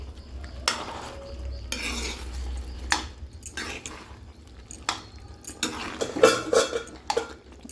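A spoon scrapes and stirs a thick tomato, garlic, ginger and cumin paste in a pan with soft sizzling, irregular metallic clinks and scrapes close up, no voices.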